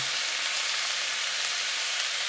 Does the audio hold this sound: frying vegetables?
yes